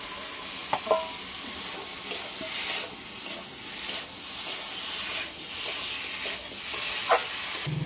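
Fried potato and green banana pieces going into cooked-down masala in a pan for a tilapia curry, a hissing sizzle rising and falling with occasional clinks and scrapes of a utensil, no talk.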